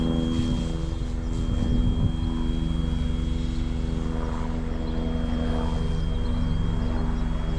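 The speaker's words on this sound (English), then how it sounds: "Oh yep, Squirrel AS350 cruising across." A Squirrel AS350 helicopter passes overhead outdoors, a steady loud droning engine and rotor hum that holds evenly throughout without any talking.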